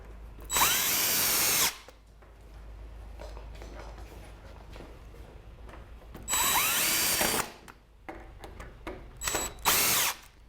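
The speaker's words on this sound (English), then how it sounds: "I'm going to put a couple more screws in so it's nice and secure." A power drill drives screws into a pallet-wood smokehouse frame in two long whirring bursts, then a few short stuttering pulses near the end, close and loud with quiet pauses between.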